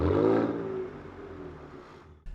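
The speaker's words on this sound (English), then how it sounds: "Yeah, wheels are spinning," A Ford Ranger Raptor with a Ford Performance tune revs hard as its wheels spin in deep snow, a loud close engine roar that slowly fades before a sudden thump at the end.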